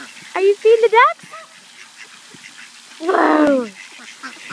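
Ducks being fed by a child give two bursts of loud, nasal quacking nearby, a quick run of calls early on and one harsher drawn-out squawk later, separated by near silence.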